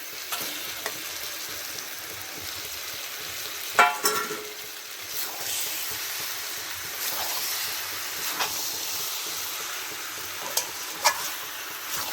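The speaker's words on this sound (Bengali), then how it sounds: "এবার এই সময় ভাজা আলুগুলো দিয়ে দেবো।" Fried potatoes go into sizzling biryani masala, which gives off a steady, close frying hiss for the whole stretch, broken by one louder clatter near the middle and a few faint knocks, with no voices.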